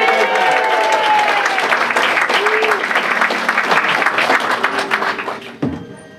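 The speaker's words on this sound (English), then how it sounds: "Come on, one more round of applause." An audience at a magic show breaks into loud, sustained applause that fills the room, thinning toward the end with a final thump.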